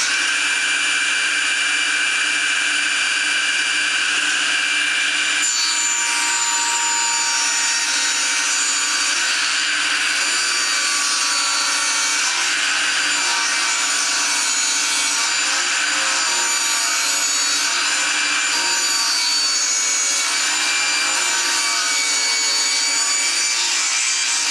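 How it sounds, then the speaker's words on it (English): A saw blade cuts a wooden tenon for a window frame in one long continuous pass, a loud, steady, high whining grind that starts up sharply and stays level throughout, with no talk over it. "So now I've got the one side of that tenon cut all the way up to the line."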